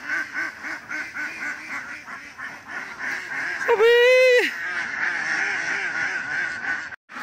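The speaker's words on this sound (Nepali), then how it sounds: "हो हेर्नुहोस् हाँस" Ducks on a village farm in Nepal quacking repeatedly in a busy flock, with one loud nasal honk standing out close by, over constant background chatter of the birds.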